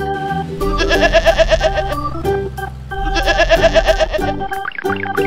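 Two long, quavering sheep bleats ring out loudly over an upbeat musical backing, followed by a brief shorter call at the end.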